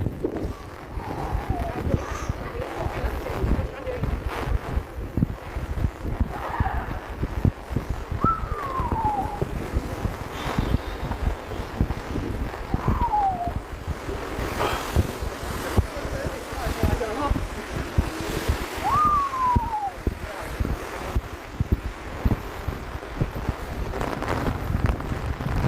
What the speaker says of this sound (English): Windy too, like it's really cold